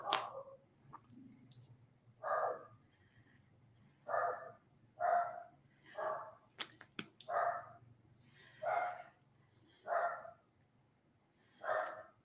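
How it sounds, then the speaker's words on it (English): A dog barks in the background during an indoor makeup session, about ten sharp single barks spaced a second or two apart, moderately distant over a low steady hum. "And the dog's barking in the background."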